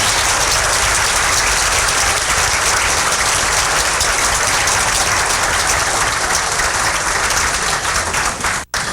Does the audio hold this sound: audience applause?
yes